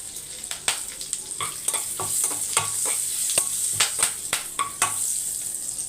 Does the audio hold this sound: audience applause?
no